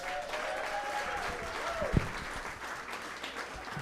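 Steady applause from a comedy club audience for a comedian fills the room, a dense continuous clatter of clapping with a brief whistle and a thump partway through.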